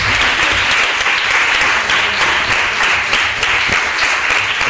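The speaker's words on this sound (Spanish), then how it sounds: "Que se os escuche un poquito, un aplauso" Loud, dense applause from a crowd of young volunteers, sustained and even throughout with no pauses, close and filling the space.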